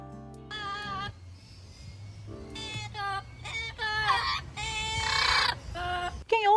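A parrot sings a string of loud, warbling, whistled phrases with bursts of harsher calls, close by and growing more intense toward the end.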